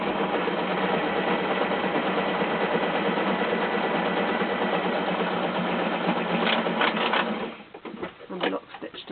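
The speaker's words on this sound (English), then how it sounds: "Position the presser foot, and off I go." Sewing machine running steadily as it stitches fabric for an Easter bag, a continuous close mechanical whir that stops near the end, leaving quieter handling noises.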